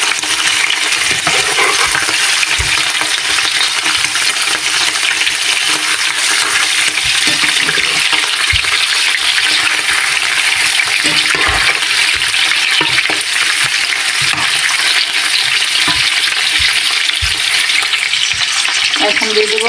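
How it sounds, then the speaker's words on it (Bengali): Prawns fry lightly in a pan with turmeric, giving a loud, continuous close-up sizzle with occasional clinks and scraping stirs breaking through the steady crackle. "দিয়ে চিংড়ি মাছটাকে হালকা একটু ভেজে নেব"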